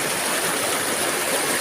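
Steady broadband rush of the Cugenang river stream flowing in Cianjur, a continuous even wash of water with no pauses, with no voices over it.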